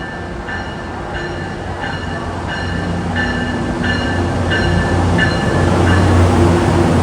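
Metro-North train bound for Waterbury on the Bridgeport to New Haven corridor, a loud close rumble with rhythmic repeating clatter and tonal hum growing louder as it passes.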